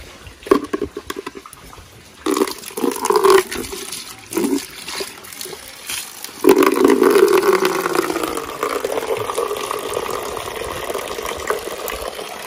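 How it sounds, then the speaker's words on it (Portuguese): Water gushes into a container on a small chicken-raising farm, a splashing, uneven pour that turns into a louder, steady filling rush partway through, with no talk over it. "Agora eu vou encher água desse daqui pra correr e buscar"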